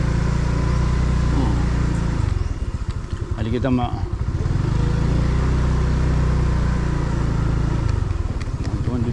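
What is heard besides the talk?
motorcycle engine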